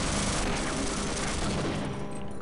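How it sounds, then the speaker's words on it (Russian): Sentry machine gun fire in a Half-Life mod: a dense, continuous stream of rapid gunfire roaring loudly throughout without pause, with a slight easing near the end. "где-то сволочь какая-то стреляет из охранного пулемета"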